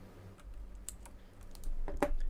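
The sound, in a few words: typing on a Razer Black Widow Chroma V2 clicky keyboard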